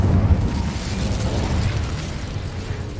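The Incendio fire spell is cast in Hogwarts Legacy, a loud roaring burst of flame that swells at once and then rumbles on steadily, slowly fading, with no speech.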